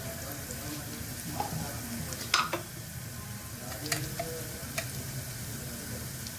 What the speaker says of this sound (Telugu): అల్లం వెల్లుల్లి పేస్ట్ కూడా ఫ్రై అయిన తర్వాత దీంట్లో 1 టేబుల్ స్పూన్ కారం